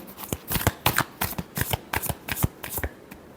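Tarot cards being shuffled by hand in a burst of about a dozen crisp, rapid riffling flicks in an uneven rhythm, close and clear with no talking.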